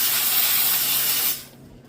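Harbor Freight steam cleaner blasting a loud, steady hiss while cleaning deep down into a surface, the broadband rush running alone for over a second before cutting off abruptly into quiet.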